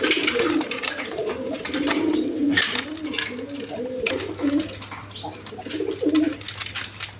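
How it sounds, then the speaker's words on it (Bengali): Several pigeons coo together in a cage on a pigeon farm, their soft throaty calls overlapping close up, with someone talking over them and occasional rustles. "দেখেন 4টা কবুতর একসাথে রাখছি"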